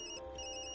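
Mobile phone ringing inside the video game Tokyo Dark: a steady electronic ringtone of sustained high tones plays on its own, brief and at moderate level over a low background hum.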